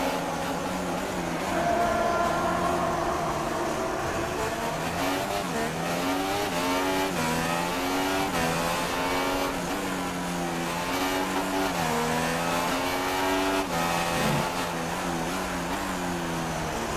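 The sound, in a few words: Honda V6 hybrid F1 engine in tunnel, F1 2016 video game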